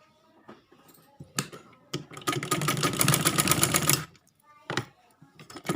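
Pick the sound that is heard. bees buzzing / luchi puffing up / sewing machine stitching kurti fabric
sewing machine stitching kurti fabric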